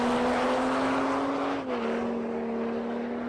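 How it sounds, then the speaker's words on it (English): A Barra-powered turbocharged Nissan Skyline R34 at a drag strip holds a loud, steady engine drone that dips briefly in pitch partway through, then settles again. "She's back in the Barra-powered Skyline, the R34 model."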